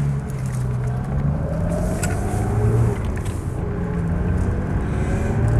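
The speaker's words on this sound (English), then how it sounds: "Into first, and off we go." A late-model classic car with an all-synchromesh gearbox pulls away in first gear, its engine a steady, close, low rumble that climbs gently in pitch as it accelerates.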